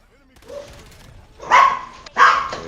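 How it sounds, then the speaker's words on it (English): Angry barking from a chihuahua, a few sharp, close, loud barks after some quieter yips, heard over Call of Duty Black Ops 7 game background. "Who got a dog barking like that?"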